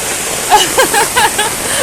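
Heavy rainwater streams and gushes in a loud, constant, close wash of noise with a few brief splashy surges and no voices.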